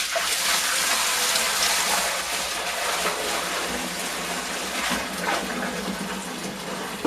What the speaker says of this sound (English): Pour all the strained vinegar inside the distiller pot.